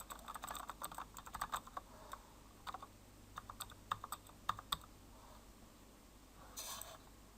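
Keys tapped on a computer keyboard in quick, irregular bursts of clicks with short pauses, soft and close in a quiet room, ending in a brief rustle.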